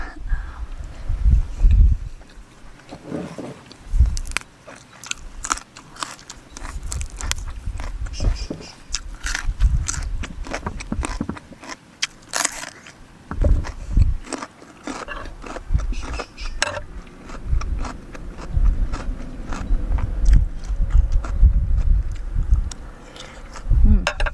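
Raw bitter beef koi mixed with liver is eaten outdoors in front of a house, with repeated close, wet biting and chewing sounds in irregular bursts throughout.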